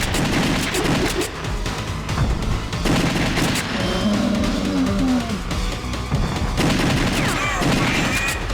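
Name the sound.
gunfire from the arcade video game The House of the Dead 2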